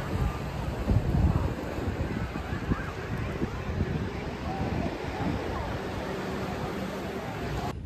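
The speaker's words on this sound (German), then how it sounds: "Hier sind wir an unserem Strand" Wind buffets the microphone on a beach in Turkey, with a continuous low rush of waves and surf underneath, steady and fairly faint throughout.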